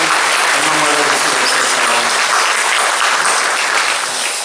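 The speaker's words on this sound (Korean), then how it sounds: "하나님께 큰 박수로 영광을 드리겠습니다." A church congregation claps in praise during a Korean worship service, a loud, sustained wash of many hands with a faint murmur of voices beneath, easing slightly at the end.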